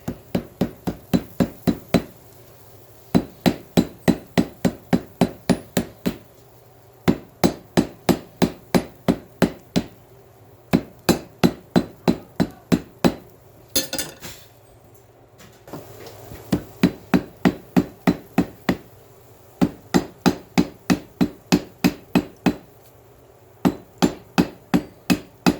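Rhythmic hammer blows forge welding cable damascus steel on an anvil, delivered in quick bursts of about eight to ten ringing strikes separated by brief pauses, close and loud.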